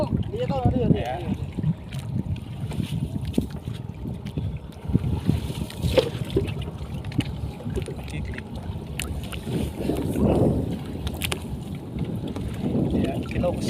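A boat carries a harvest of agar (gulaman) seaweed across open water, a steady low motor-and-water rumble with wind buffeting the microphone throughout, swelling briefly near the end.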